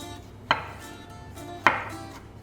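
Two sharp knife strikes through tomatoes on a cutting board, chopping them into small pieces, spaced about a second apart and close by, with no talk.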